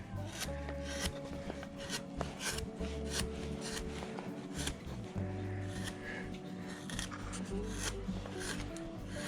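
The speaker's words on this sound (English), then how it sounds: "I'm going to have to switch to a smaller gouge" A number 9 wood-carving gouge, about 10 millimetres wide, shaving wood: a steady run of close, rasping scrapes and short cutting strokes that repeat throughout.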